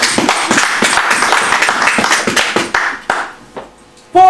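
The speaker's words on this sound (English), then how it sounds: "Clap for yourselves, please" A church congregation claps together in a loud, close burst of rhythmic hand claps that thins into scattered claps and dies away, followed by a sudden short tonal sound at the end.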